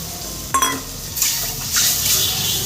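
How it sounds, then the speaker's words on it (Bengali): Water splashes into a pan of frying mango for a thin mango chutney, with a clatter of utensils against the pan followed by a steady pour and sizzle close by. "এবার আমি একটু জল দেব যেহেতু এটা পাতলা চাটনি করবো সেজন্য আমি জল দেব"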